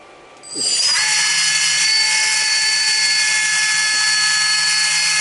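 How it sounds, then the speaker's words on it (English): Hydraulic pump on a LESU 374 model excavator spinning up after a brief quiet start, settling into a loud, steady electric whine with a high tonal drone that holds without pause. "So let's fire this thing off, this pump."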